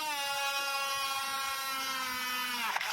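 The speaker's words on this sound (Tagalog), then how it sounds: "Gamit nga pala ito, nabili ko sa online na mini drill." Small battery-powered mini drill, running off a salvaged pressure-washer battery, whines steadily while boring a hole for a switch, its pitch sagging slightly under load before it stops with a brief clatter near the end, up close with no talking.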